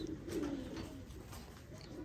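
Breeder pigeons coo softly nearby, a low throaty warble repeating over a faint background hiss.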